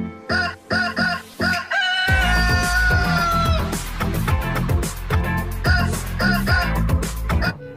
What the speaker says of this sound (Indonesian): Wow, ini ayam.